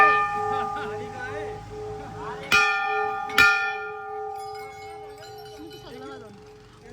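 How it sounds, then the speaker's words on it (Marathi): Temple bells ring at Kamleshwar Mahadev temple in Uttarakhand, bright sustained tones with two sharp loud strikes and lingering resonance, while people talk and call out nearby. "इकडून बेल वाजवून जायचे"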